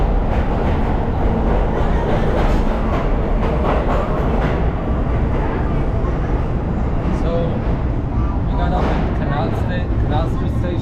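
A New York City subway train at Canal Street station rumbles and rattles steadily with screeching metal and clattering wheels, people's voices faintly under the noise.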